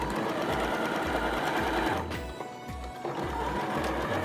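A sewing machine stitches the side seams of a shirt in quick rhythmic bursts, running steadily, briefly pausing, then starting again, close and clear.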